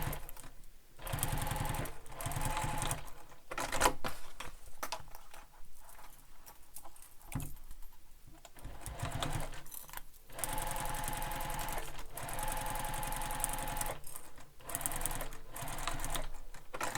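A sewing machine bastes together the sides and bottom of a fabric backpack, running in steady stitching bursts that start and stop several times, loud and close.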